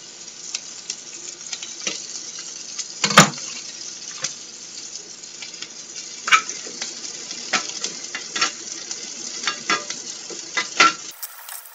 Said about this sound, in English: You can add a little extra butter to the peppers and onions just to help them cook better.